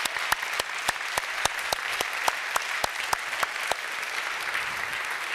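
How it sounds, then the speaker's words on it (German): Steady applause from an audience, dense clapping with sharper individual claps standing out, continuing throughout. "Großen Applaus für die Jungs."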